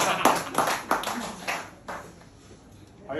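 A handful of scattered, separate hand claps from a small audience, sparse and fairly faint, fading out after a few seconds.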